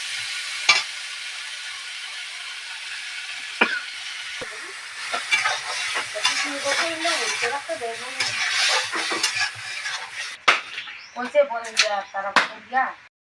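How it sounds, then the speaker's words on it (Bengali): Fish cooked with potatoes and mixed vegetables in salt, turmeric, chilli and ginger, stirred and scraped through the spices in a pan, giving a steady sizzle and irregular clatters and scrapes, with a voice speaking over much of it. "এবার একটু ভালো মতো নেড়ে চেড়ে কষিয়ে নিতে হবে"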